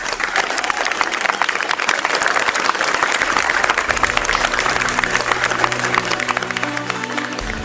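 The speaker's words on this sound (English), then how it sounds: "please join me in giving a warm round of applause" Loud, sustained applause from a large audience at the I-RITEC 2025 award ceremony greeting an Outstanding Award winner, dense clapping throughout with faint crowd murmur underneath.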